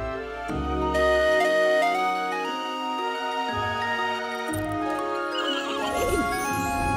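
Cartoon sky horses from Cloudbabies neigh and whinny with loud, bright, tonal calls, accompanied by musical tinkling and a short flourish at the end.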